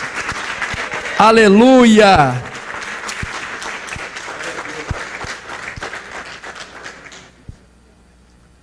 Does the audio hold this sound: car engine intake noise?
no